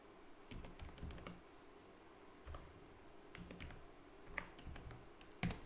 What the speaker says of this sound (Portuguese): Eu vou digitando aqui.